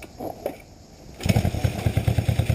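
A 1966 Honda CB77 motorcycle engine catches on the first kick after a quiet start, then settles into a steady, rhythmic idle with evenly spaced low putts, close and fairly loud.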